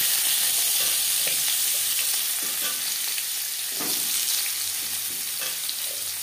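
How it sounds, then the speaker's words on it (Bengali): Pumpkin pieces hit hot refined oil with cumin seeds and fried lentil dumplings, producing a loud, dense, continuous sizzle with faint stirring knocks and no speech. "15-20 সেকেন্ড বড়ি জিরে ভেজে নেওয়ার পর দিয়ে দেব কুমড়ো।"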